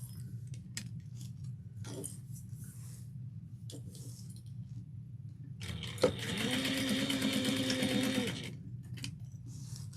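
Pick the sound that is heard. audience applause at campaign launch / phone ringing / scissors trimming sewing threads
scissors trimming sewing threads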